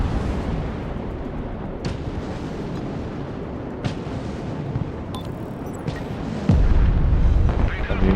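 Artillery fire in the video game Broken Arrow rumbles as a dense, continuous roar of explosions and booms, with a few sharper cracks and a heavier blast near the end, close and loud under some talk.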